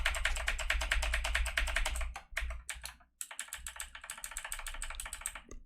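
A computer keyboard clatters with rapid, dense, close clicks of typing, pausing twice briefly before resuming in a steady, fast patter, with no voices.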